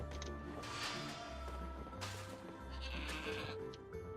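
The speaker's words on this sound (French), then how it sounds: "Quelle chèvre hors du commun." A goat bleats in the video game Trine 4, a few close, nasal bleats over steady game music.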